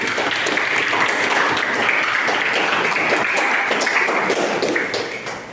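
Applause from an audience in a teacher performance-assessment classroom session, a steady dense patter of many hands clapping for about five seconds before tapering off at the end.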